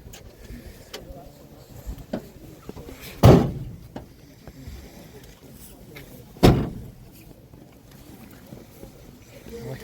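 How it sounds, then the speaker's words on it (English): A police van door slammed shut and locked outdoors at a Gloucester Cathedral protest, two heavy thuds a few seconds apart over street noise with people talking nearby. "And the door gets shut and locked."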